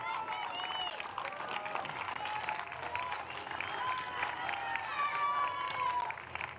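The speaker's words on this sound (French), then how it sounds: "on peut applaudir, mesdames et messieurs, le podium" Spectators applaud the podium of the top ten girls aged 9 at the 20 km de Lausanne race in 2019, steady outdoor clapping and light cheering with a voice speaking over it.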